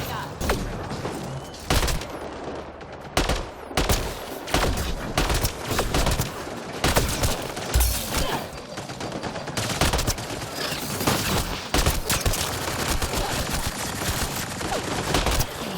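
Rapid bursts of sci-fi gunfire in the video game Mass Effect Andromeda, a dense string of sharp shots and volleys with a few heavy thumps, loud and close over game sounds.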